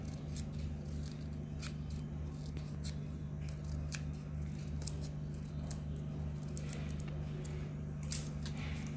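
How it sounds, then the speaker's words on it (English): Scissors snip fringes into folded paper flower leaves, a run of short sharp crisp cuts repeating over a steady low mains-like hum, close and fairly quiet. "Just cut the fringes on the outer corner of these."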